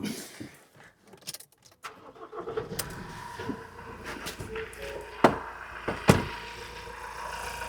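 Keys jangle before a Ford Transit van's engine cranks and starts, then settles into a steady idle with a few sharp clicks and knocks nearby. No one talks.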